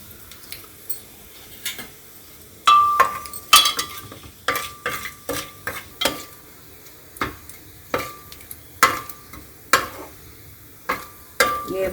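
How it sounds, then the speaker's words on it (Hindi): Whole cumin, bay leaf, cinnamon, cloves and black cardamom roast in about three spoons of hot oil with a faint sizzle, broken by sharp, repeated spoon clinks against the pan as they are stirred. "ये हमारा खड़ा मसाला थोड़ा सा भून जाएगा"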